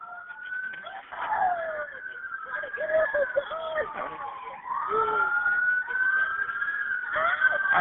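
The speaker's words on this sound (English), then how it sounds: "All right, the ambulance is here." An arriving ambulance's wailing siren sweeps up and down steadily, fairly close and loud, with continuous background noise and no clear break.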